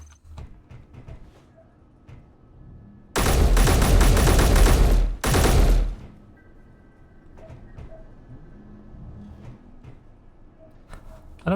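Turret gunfire in Space Engineers, two loud sustained bursts of rapid automatic fire separated by a brief gap, surrounded by quieter mechanical clicks and game ambience.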